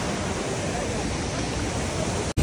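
The Dhangar waterfall near Badlapur flows with a steady, loud rush of broadband water noise that is close and continuous. It breaks off briefly near the end.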